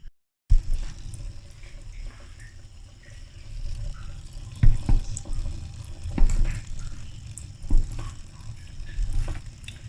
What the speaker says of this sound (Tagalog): Huhugasan natin para matanggal yung lagkit niya